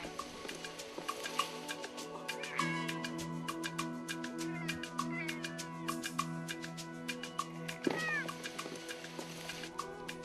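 Playback of a recorded cat meowing in a city streamside park in Seoul: repeated drawn-out meows and sharper cries, loud and near, continuing over a constant tonal background hum.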